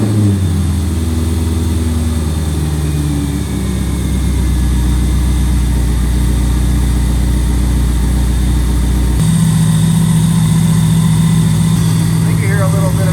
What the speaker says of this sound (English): I think you hear a little bit of an exhaust leak in there.